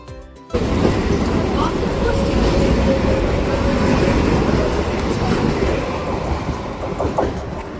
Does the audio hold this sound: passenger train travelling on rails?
yes